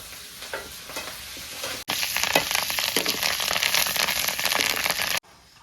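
Shallots and curry leaves frying in hot oil for a fish curry: a soft sizzle that jumps to a loud, dense crackle as the leaves go in, then cuts off abruptly.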